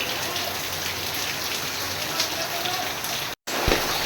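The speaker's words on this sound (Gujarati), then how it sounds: "વરસાદ ચાલુ થઈ ગયો જોતા" Steady rain pours down in a broad, even hiss with no let-up, close and fairly loud, cutting out briefly near the end before resuming; the downpour arrives with a fierce wind.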